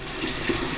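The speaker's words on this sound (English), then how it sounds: "rinse them out, get all that slime out of there." Tap water runs steadily through a strainer of canned black beans being rinsed, a close, even splashing rush that stays constant throughout the moment.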